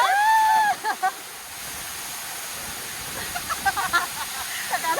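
Kanapulan Falls in Naawan pours as a steady broadband roar of falling water, continuous and fairly close, with excited voices and cheering over it at the start and near the end.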